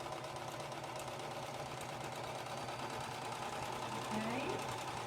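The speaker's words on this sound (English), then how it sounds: "And then I'm just going to serge." A serger sewing machine runs steadily, stitching a seam on a summer placemat, its dense mechanical whir continuous and close throughout with a slight rise near the end.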